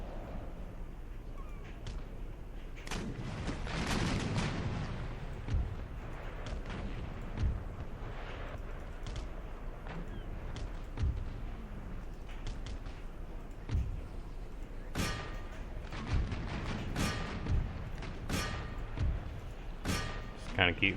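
Massed musket volleys from troops in Empire: Total War, repeated sharp cracks and thuds scattered across a distant battle din, with someone talking over them.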